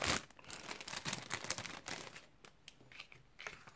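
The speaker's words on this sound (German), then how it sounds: "Ich mache immer so mit dieser Plastiktüte" Plastic bag crinkling and rustling up close as a vehicle registration document is slipped inside, irregular crackling bursts loudest at the start and gradually softening, with no talk.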